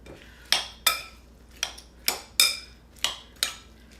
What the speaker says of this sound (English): And now I'm gonna go in and stir it up again.